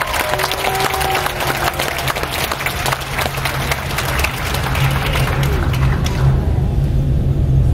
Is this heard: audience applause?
yes